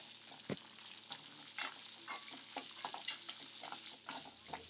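Green chillies, curry leaves and asafoetida sauté in hot oil in a pan for a curd rice tempering, stirred until golden: a steady close sizzle broken by the scrape and clatter of stirring, with no talk.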